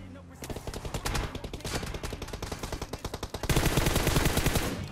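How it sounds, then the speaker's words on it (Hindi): Sustained automatic gunfire in the PUBG Mobile video game, a rapid, steady stream of loud shots that briefly thins and then returns heavier and denser, with no talk over it. "जैसे हम थोड़ा सा आगे चले हमें कुछ फायरिंग के साउंड आए"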